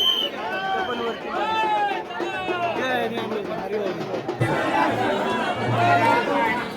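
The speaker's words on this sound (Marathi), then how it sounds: "गर्दी बघू शकता तुम्ही, केवढी जास्त गर्दी" Dense crowd at the Somavati Amavasya festival in Jejuri, a close, continuous babble of many voices with shouts and movement, loud throughout, with nearby people chattering.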